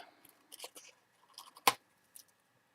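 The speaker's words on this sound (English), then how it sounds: "to cut out her hair ends. Which you'd probably do better by using smaller scissors" Scissors snip through hair ends in a few quiet, scattered cuts, with one sharper, louder snip near the end standing out against a mostly hushed background.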